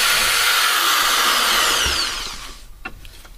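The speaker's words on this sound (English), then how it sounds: "I'm just going to switch my drill over" A power drill runs with a steady high whine for about two seconds, then spins down and stops, leaving a few faint clicks and handling noises.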